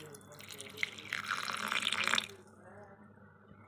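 Water pours into a mixer jar of dosa batter ingredients in a steady splashing stream for about two seconds, then cuts off, leaving a quiet room.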